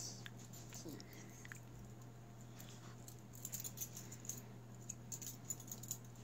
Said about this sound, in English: I think I got some more keys.